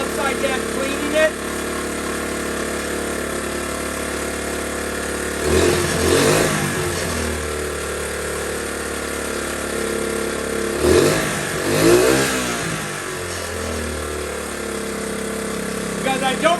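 A Honda CT70 motorcycle idles steadily at close range and is briefly revved twice, with a rising and falling surge each time, and its small engine keeps running throughout.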